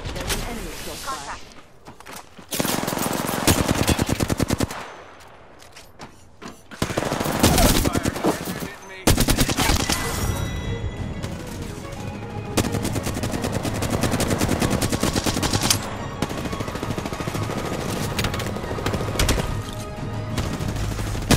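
Sustained firefight in Apex Legends, with loud rapid automatic gunfire in dense bursts, brief pauses and near-continuous shooting, alongside in-game callout voices.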